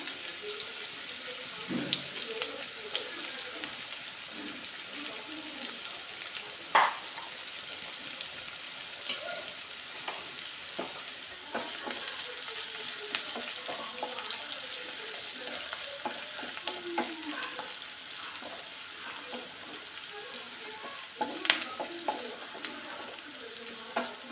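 Sliced onions fry in ghee for a Manjali-style biryani, a faint, steady sizzle with occasional stirring clinks and scrapes throughout.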